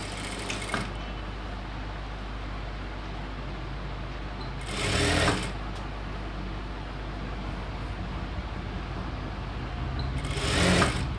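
A sewing machine stitching a chudidhar top runs in a steady close whirr, swelling in two brief louder bursts as it speeds up, with no speech.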